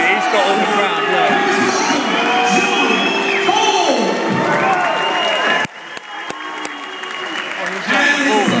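A dense crowd at an amateur MMA fight night in Cardiff cheers, claps and shouts continuously, dips briefly, then swells again, with voices talking nearby.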